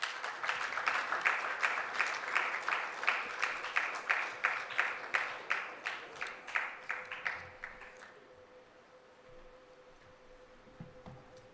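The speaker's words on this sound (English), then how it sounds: "Madam President deserves a louder applause" An audience at the Ghana Dental Association's 35th annual congress opening ceremony applauds with rhythmic, steady clapping in unison that stays loud for about eight seconds, then stops abruptly, leaving a faint hum of the hall.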